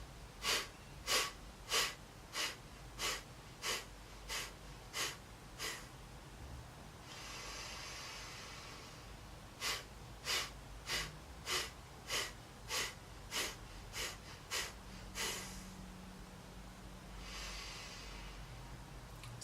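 Rhythmic pulsed breathing exercise done in two rounds of about ten sharp, evenly spaced breaths each, separated by a long drawn hissing inhale and exhale. The breaths are close, clear and steady, with no talking.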